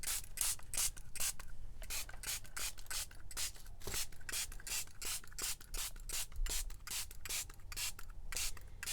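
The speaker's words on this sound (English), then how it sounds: "when you're spraying like this, a little bit of coffee dye goes a very long way." Coffee dye sprayed through a stencil for a craft dyeing project, heard as rapid, evenly repeated short hissing bursts of spray running steadily throughout, close and moderately loud.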